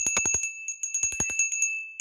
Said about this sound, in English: That bell clears the energy.